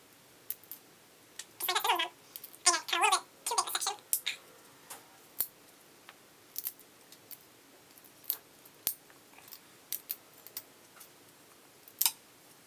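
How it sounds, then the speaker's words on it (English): Knife cutting away the old cork grip on a 40-year-old fishing rod, heard as a cluster of scraping, crunching strokes early on, then sparse sharp clicks and short scrapes, close and quiet with no talk. "cutting out an inch at a time and like not getting my knife like too far in there"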